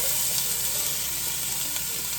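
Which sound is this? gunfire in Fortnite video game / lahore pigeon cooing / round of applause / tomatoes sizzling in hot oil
tomatoes sizzling in hot oil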